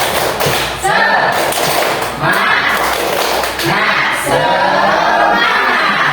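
A group at an elementary school, SDN 40 Tulang Bawang Tengah, performs the 'tepuk semangat' clapping chant, rhythmic clusters of claps mixed with loud chanted group voices, close and energetic.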